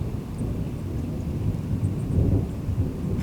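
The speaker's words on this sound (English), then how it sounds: "that storm seems to be kind of coming up this way" Thunder from an approaching storm rolls on a Wyoming fishing trip, a low, continuous rumble swelling and fading in the distance, with no other sounds over it.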